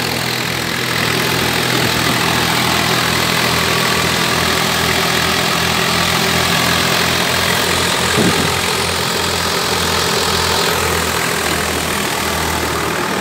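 A Swaraj 744 tractor engine drives a thresher in a steady, loud, continuous drone with a low rhythmic chug and broadband mechanical rush, close by and uninterrupted, with no voices.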